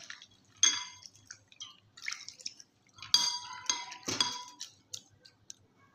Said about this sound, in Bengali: আমি এক বাটি চিড়া নিয়েছি। এবার ভালো করে আমি ধুয়ে নেব